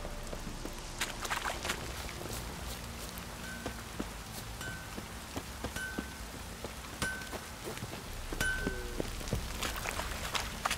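Steady rain falling outdoors, a dense continuous patter with scattered sharper drips and taps, moderately quiet and unbroken throughout.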